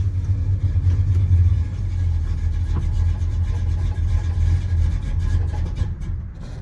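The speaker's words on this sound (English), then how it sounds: "So it's warmed up, idling pretty good." A warmed-up 1979 Dodge Power Wagon engine idles with a loud, steady low throb and slight unevenness, then the sound sags and fades as it dies out.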